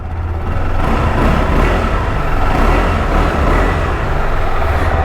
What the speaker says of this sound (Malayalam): ജസ്റ്റ് നമുക്ക് ഇതിൻ്റെ എക്സോസ്റ്റ് നോട്ടൊന്ന് കേട്ട് നോക്കാം കേട്ടോ